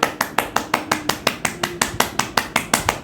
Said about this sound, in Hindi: इस तरह से ताली बजाइए।